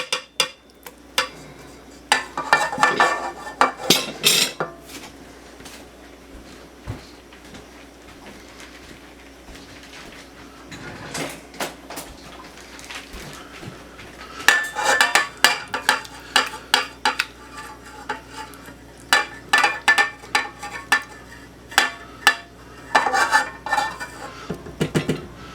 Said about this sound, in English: I'm going to get all that sour cream in there and then mix it up.